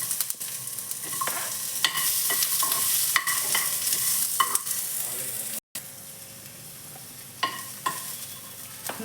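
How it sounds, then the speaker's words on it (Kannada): Cut onion frying with bay leaf, peppercorns, cashews, garlic and tomato for a paneer gravy, sizzling steadily in a pan and stirred with repeated scraping clicks. A brief silent cut falls near the middle, and no one speaks. "ಇದೆಲ್ಲ ಫ್ರೈ ಮಾಡ್ಕೋಬೇಕು, ನೀಟಾಗಿ ಸಾಫ್ಟ್ ಆಗೋ ಥರ ಫ್ರೈ ಮಾಡ್ಕೋಬೇಕು"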